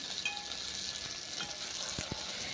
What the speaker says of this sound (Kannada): ಇದು ಫ್ರೈ ಆಗಬೇಕು ಚೆನ್ನಾಗೆ